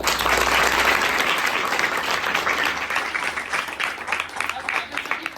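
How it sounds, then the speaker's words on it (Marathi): Sustained, dense applause from an audience for children who recited poems at a Marathi children's literary gathering, loud at first and gradually thinning toward the end. "एकदा तुमच्यासाठी जोरदार टाळ्या वाजवा"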